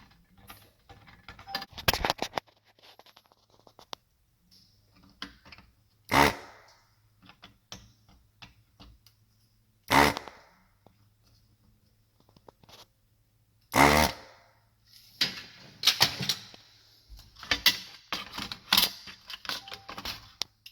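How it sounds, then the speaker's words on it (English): Hakko desoldering gun removing a triac from a microwave circuit board: sharp bursts of vacuum suction at uneven intervals, mixed with small clicks and handling taps, close up, with no talking. "This particular desoldering gun is the one I use, the Heiko."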